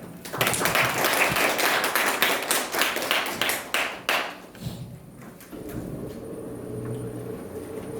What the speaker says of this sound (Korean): 박수로 박병호 처장님을 모시도록 하겠습니다.